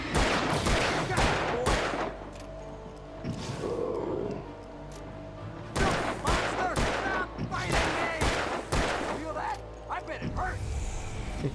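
Gunfire in Alan Wake, a series of sharp, loud shots in clusters with short pauses between them, along with other game action noises.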